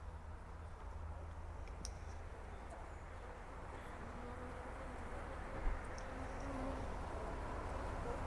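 Honeybees at a hive frame in an apiary make a steady, dense, low buzzing hum that fills the whole stretch, fairly faint but constant, with no talking.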